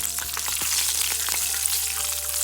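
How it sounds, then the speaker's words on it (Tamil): Steady close-up sizzling and crackling of cashews frying in hot ghee, with a constant low hum behind it. "முந்திரி பயிர் நெய்யில் அப்படியே பொரிஞ்சிட்டு இருக்குது"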